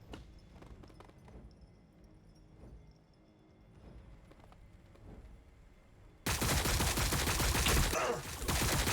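Gunfire strikes Blood Angels units in Warhammer 40,000: Battlesector, rapid repeated shots in bursts at moderate distance, turning into a much louder, dense barrage in the final seconds.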